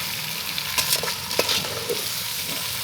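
Potatoes and spices are stirred in hot oil on a traditional village stove, with a constant close sizzle and a few soft scraping stirs and clinks over a short stretch.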